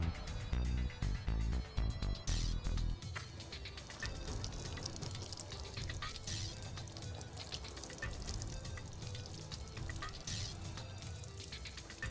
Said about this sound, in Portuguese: Em seguida, a gente vai fazer o enxágue dessa área.